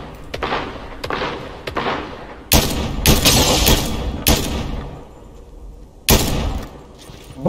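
Gunfire in the no-build mode of the video game Fortnite: several sharp shots in a loose burst, then a denser cluster of loud cracks and booms, and a single heavy blast near the end, with no talk.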